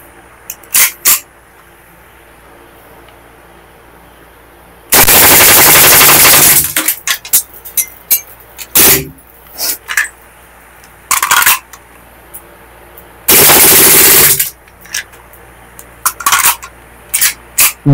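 A Beretta gas-powered pistol fires full auto in two loud, dense bursts of rapid shots, each lasting one to two seconds, separated and followed by scattered metallic clicks and clatter.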